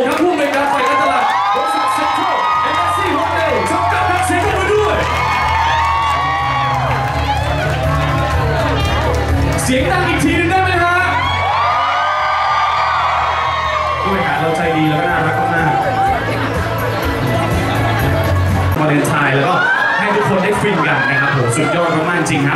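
A crowd at a Valentine's Day event in a shopping mall screams and cheers loudly to welcome an executive, with shrill whoops and excited shouting continuing steadily, close and intense throughout.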